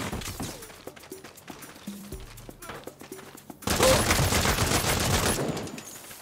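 Rapid bursts of gunfire in the video game Saints Row crackle in quick volleys, starting sparse and then swelling into a loud, dense barrage in the second half.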